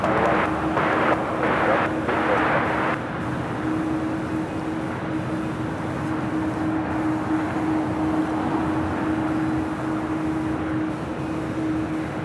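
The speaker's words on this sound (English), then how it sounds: "we're looking at United Flight 33 coming in from Tokyo Narita" A United Boeing 787-9 Dreamliner arriving at Los Angeles airport from Tokyo Narita makes a loud, steady jet roar with a sustained engine whine, continuous for several seconds, close and with no voices.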